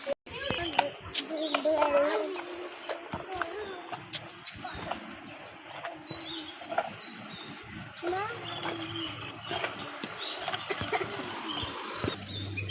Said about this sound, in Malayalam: കുറേ കിളികളുടെ സൗണ്ട് കേട്ടോ അവിടെ